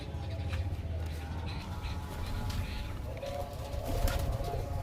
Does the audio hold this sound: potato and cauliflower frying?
no